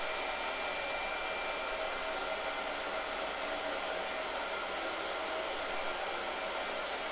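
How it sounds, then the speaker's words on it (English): A blow dryer drying gouache paint runs continuously with an even, steady whoosh and a faint whine, holding at a constant level with no pauses. "let me hit a blow dryer real quick"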